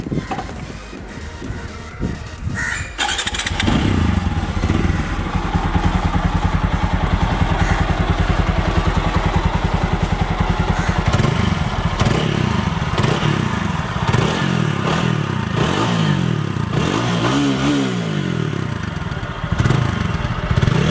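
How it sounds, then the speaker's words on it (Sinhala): A TVS Apache RTR 200 4V motorcycle with a twin-barrel exhaust starts after a few seconds of clatter, then idles and revs loudly and close, its engine note rising and falling through the rest with no talking. "ට්වින් බැරල් එක්සෝස් සිස්ටම් මේ බයිකේ දීලා තියෙන මක්ලගේ සුපිරි සවුන්ඩ් එකක් දෙනවා"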